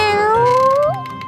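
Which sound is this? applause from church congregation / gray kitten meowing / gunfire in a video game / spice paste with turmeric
gray kitten meowing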